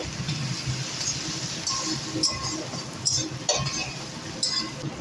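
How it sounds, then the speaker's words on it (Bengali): A utensil stirs chopped tomato into a prawn and jackfruit curry in a pan, giving scattered light clinks and scrapes against the metal over a low steady background hum. "টমেটো কুচি দিয়ে কিন্তু ভালো করে নেড়ে নেব"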